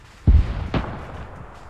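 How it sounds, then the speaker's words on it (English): A main battle tank in a military shooter game fires its cannon twice, a heavy booming blast followed by a second report, the rumble lingering afterward. "MBT's just firing into the fucking dirt in front of it"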